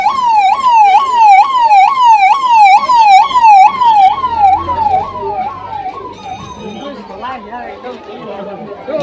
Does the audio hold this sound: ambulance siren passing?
yes